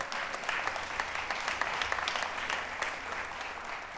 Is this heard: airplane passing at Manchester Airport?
no